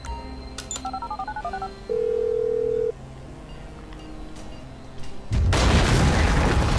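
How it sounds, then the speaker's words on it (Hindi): A phone keypad sequence of beeping tones and a long held tone, then a loud bomb blast with roaring rumble in the video game GTA 5, the explosion closing the clip at full volume. "ये बॉम्ब जो है यहाँ पे डिटोनेट हो गया है"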